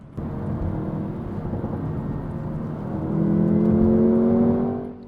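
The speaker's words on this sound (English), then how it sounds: "it has that very nice burbly sports car-like sound" A Jaguar F-Type 2.0 coupe's 2-liter inline-four engine hums steadily, then rises in a louder, throaty rev with a smooth burble partway through; no talking.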